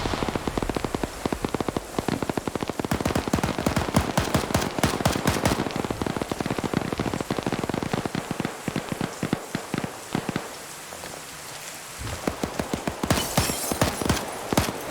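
Gunfire in an online shooter game: dense, rapid shots rattle loudly in quick bursts, thin out briefly toward the end, then pick up again.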